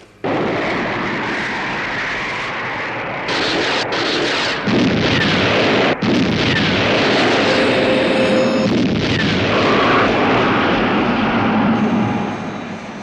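Missile launch during an interceptor attack, a loud sustained roaring rumble with blast-like surges running through the whole stretch, with faint whistling tones above it.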